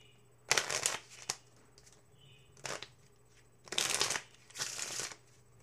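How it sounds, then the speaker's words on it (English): A deck of playing cards is shuffled close up in four quick riffling bursts with short pauses between, crisp and fairly loud, with no talking over it. "Give it a shuffle."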